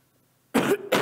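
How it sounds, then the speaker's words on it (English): A person coughs twice in close succession, loud and near, after a stretch of near silence; each cough is a harsh burst with a short gap between them. "My cough isn't really as bad as it sounds,"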